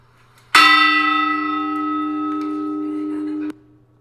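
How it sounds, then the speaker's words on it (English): A church bell along the Camino, rung by hand in a stone tower: one loud, clear strike that rings out with a long, sustained, shimmering hum for about three seconds before being damped abruptly, nothing else audible. "And quite a queue soon formed to climb the spiral steps of stone to ring the bell"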